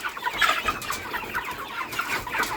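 Several broiler chickens, 48 days old, cluck and chatter continuously nearby, a busy overlapping flock sound with soft background noise.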